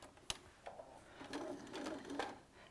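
A sewing machine whirs in short quiet runs of stitching quilt pieces together, faint and close, with a sharp click at the start.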